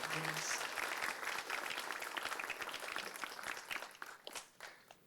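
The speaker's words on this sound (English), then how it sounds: "give them another round of applause for coming out here and putting this on" A crowd at a public commission hearing applauds steadily, dense clapping that thins out and trails off into scattered claps near the end.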